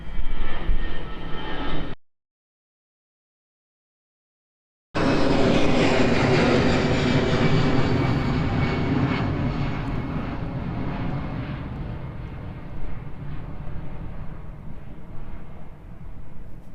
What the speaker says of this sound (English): Delta Charlie registration of the arriving 737.